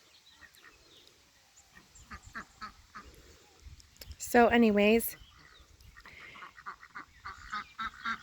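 Ducks quack near their small duck house in a backyard garden: a single loud, close burst of quacking stands out midway, with a person talking quietly before and after.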